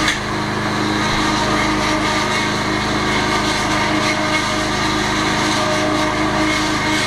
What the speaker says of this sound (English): It's a self-priming pump, but it should prime itself.